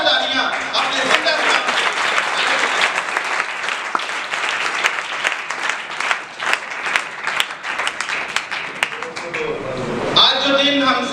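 Loud congregation applause at an Easter church service, many hands clapping in a sustained, energetic burst that fades near the end as a voice briefly returns.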